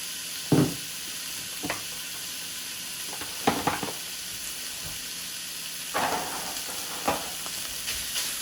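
Chopped thick-cut bacon fries in a warm pan without added oil, a steady low sizzle broken by several scraping stirs of a wooden spoon, with no talk.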